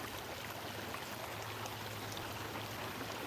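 A small creek flowing through a park, a steady close babbling and trickling wash of water that holds even and unbroken throughout, with no voices.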